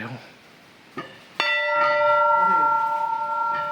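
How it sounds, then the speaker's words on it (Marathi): A large bell at the Bhairoba Temple in Tambwe, Karad, is struck once, its deep metallic tone ringing out and sustaining with a long shimmering hum after a couple of faint knocks. "इथे मोठा घंटा आहे"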